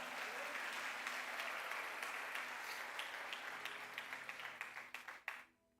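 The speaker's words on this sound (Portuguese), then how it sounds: "Você pode aplaudir a Ele nessa noite?" A church congregation applauds together in a dense, sustained wash of clapping that thins and trails off near the end, heard at a moderate distance in a large room.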